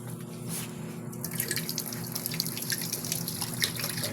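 Moringa leaves are rinsed under a running kitchen tap, with a steady stream of water and irregular splashing and dripping as the leaves are handled, at moderate, close volume with no voices.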